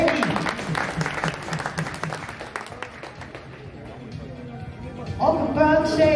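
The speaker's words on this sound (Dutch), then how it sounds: "Graag applaus voor Benny." Applause at a Dutch national championship veterans final: a burst of claps from the crowd fills the first few seconds, then fades as an announcer's voice takes over.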